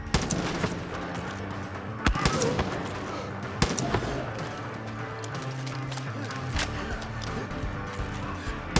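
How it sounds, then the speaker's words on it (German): Gunfire in Far Cry 5, shooting at a grave by a road, scattered sharp shots ringing out over a busy game background of engine rumble and clatter. "Wir schießen auf ein anderes Grab."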